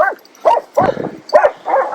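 Several hunting dogs bark and yip in short, excited bursts, close by, with brief pauses between yelps, during a wild boar hunt.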